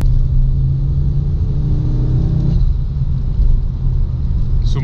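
A Ford Focus RS MK2 with its five-cylinder engine runs loud and close, a deep continuous rumble that holds steady with a slight shift in pitch partway through, heard alone without talk.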